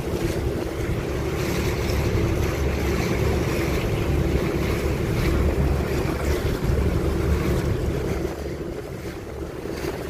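Steady roar of wind and crashing big ocean waves around a boat at sea, loud and continuous, with engine rumble underneath and no voices.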